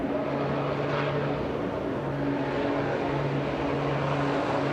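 A racing truck engine drones steadily as the driver eases off along the straight in an FIA European Truck Racing qualifying session at Le Mans, a constant distant roar with a sustained low hum.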